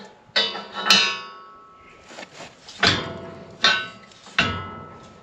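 A metal gate latch on a cattle loading alley is worked repeatedly, giving several sharp metallic clanks and rattles at irregular intervals, close and clear.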